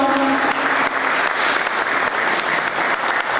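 A crowd at a memorial band event in Alcara Li Fusi, Italy, applauds the band conductor, clapping steadily in dense, sustained applause that fills the whole stretch, loud and even.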